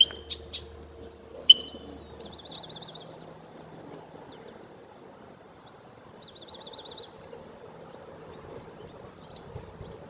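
Birds chirp from the cattails along a creekside greenway, short trilled calls repeating at intervals with a couple of sharper chips early on, moderately distant over a soft outdoor background.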